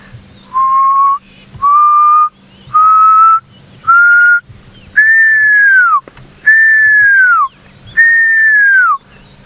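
A person whistles an imitation of a pearl-spotted owl call on safari at sunset: seven clear, separate whistled notes, each rising slightly; the later ones are longer and drop at the end. Steady and close, with faint background and no talk.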